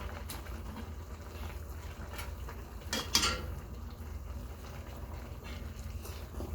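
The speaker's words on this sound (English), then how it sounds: "We're going to give it a stir." Collard greens, kale and smoked turkey are stirred in a hot pot, giving a low, steady bubbling simmer with faint utensil scrapes and one brief, louder metallic clatter midway.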